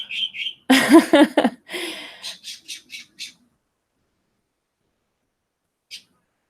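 Birds squawk outdoors during a live music broadcast, a burst of loud harsh calls followed by a short series of sharp chirps, then quiet with one faint call near the end.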